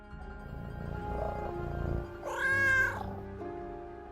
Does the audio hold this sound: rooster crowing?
no